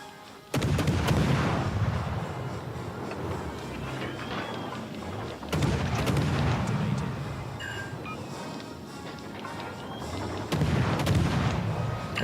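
Warship main guns fire in World of Warships: Legends, three heavy booming salvos spaced a few seconds apart, each followed by a rumbling tail, with faint game effects between them.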